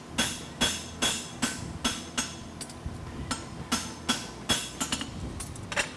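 A blacksmith at a world championship competition hammers a horseshoe flat, with sharp ringing blows in a steady rhythm of roughly two per second, close and clear, some strikes coming in quick doubles.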